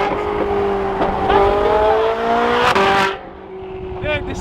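A Ferrari 458 engine revving hard on the road, loud and near with rising tone through the gears, then dropping off sharply near the end.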